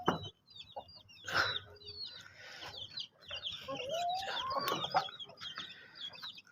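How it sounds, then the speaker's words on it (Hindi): Chickens clucking and squawking nearby, irregular and busy, with other birds chirping faintly in the background. "ये है मुर्गे"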